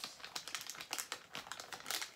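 Christmas wrapping paper crinkles and rustles steadily in quick, close handling sounds while presents are wrapped, soft and continuous with no talking.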